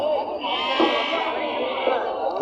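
Lambs bleat at a busy sheep and goat market in Kerur, with several wavering cries close by mixed with people talking in the background.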